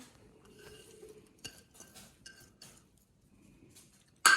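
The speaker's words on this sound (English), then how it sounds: "And I'm just going to give it a good stir." Chicken lasagna sauce stirred in a pan, soft scraping and clinking of a utensil against the pan in a few irregular strokes, quiet and close, ending in a louder knock.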